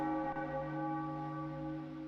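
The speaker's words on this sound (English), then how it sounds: "You're ringing the giant church bell" Giant church bell ringing in Zelda: The Wind Waker, a sustained resonant tolling tone with layered overtones, heard alone and slowly decaying throughout.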